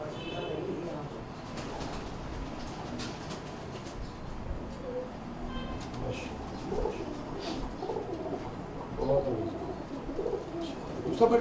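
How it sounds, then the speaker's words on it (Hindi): Pure Rampuri pigeons coo softly and continuously in a Lahore home loft, a low murmuring flock sound with faint chirps and background voices. "जी अब मैं ये रामपुरी आपको दिखाने लगा हूँ, प्योर रामपुरी कबूतर।"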